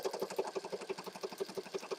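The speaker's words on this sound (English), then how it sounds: "I was going to stitch across the top and the bottom, so I'll do that now" A sewing machine stitches across the top of a paper journal page, a quick, even run of needle punches about eight per second, close but soft, with no voices.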